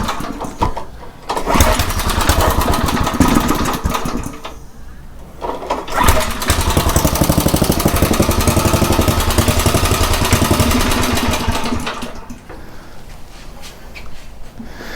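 A Craftsman rototiller engine with a rusty tank and a dirty, badly tuned carburetor runs loud and close, roaring steadily but dipping and stumbling at about five and twelve seconds before picking back up.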